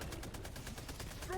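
Automated sentry turret in a co-op shooter video game fires a steady rapid burst of gunfire, loud and continuous, with a voice speaking faintly under the shots.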